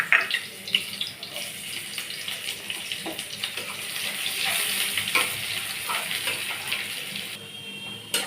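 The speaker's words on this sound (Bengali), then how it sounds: "পেঁয়াজটা আমি লাল লাল করে ভেজে নিয়েছি।" Onions fry in a wok until browned, with a continuous sizzle broken by repeated scraping and clinking of a spatula stirring them.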